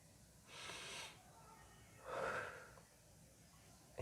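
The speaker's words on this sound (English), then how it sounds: "breathe in deeply" Deep breathing during a home workout, two drawn-out audible inhalations close to the mic separated by a pause, soft and airy.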